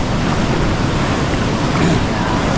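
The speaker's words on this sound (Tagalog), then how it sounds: "May alon pa rin." Ocean waves wash continuously in a dense, loud broadband rush, steady throughout with no distinct breaks and no talking heard.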